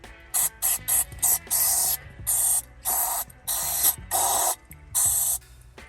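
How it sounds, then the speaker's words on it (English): Aerosol cleaner sprays into a jammed VW ignition lock in a series of short bursts, about ten sprays of varying length separated by brief pauses, close and fairly loud. "Try and spray it all directions."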